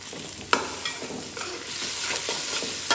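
Mutton curry sizzles and fries in a pan once oil goes in, with a steady crackling hiss, a sharp clink near the start and scraping stirring strokes throughout.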